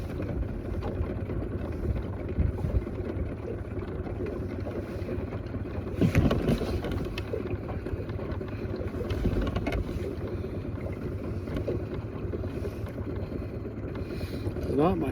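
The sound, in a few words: wind while trout fishing from a boat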